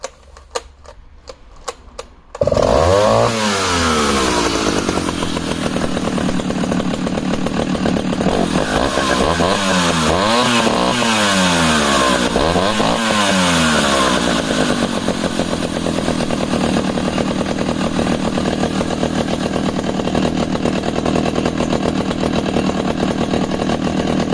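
A few sharp clicks, then a 1970s two-stroke chainsaw engine, started with a bit of choke, roars to life close up, revving up and down repeatedly before settling into a loud, steady run.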